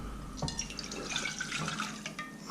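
One cup of water is poured into a pot sitting on a Trangia alcohol stove's pot stand, a quiet, close splashing trickle lasting a couple of seconds.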